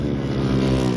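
A racing motorcycle engine drones loud and close in a seniors race heat, a steady mid-pitched buzz with no clear rise in revs over a single second.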